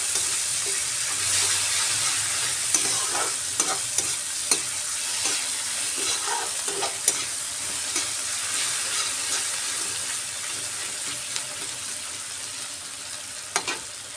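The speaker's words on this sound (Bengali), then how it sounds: "পেঁয়াজটাকেও কড়া করে ভাজবো।" Chopped onions fry hard in hot oil for a vegetable and dried-fish dish, giving a steady, even sizzle broken by frequent small clicks and scrapes as the pan is stirred.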